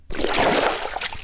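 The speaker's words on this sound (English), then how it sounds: "This is paddle noise," A river paddle stroke swishes and splashes through the water in one sustained rush lasting about a second, close and fairly loud, then trickling away.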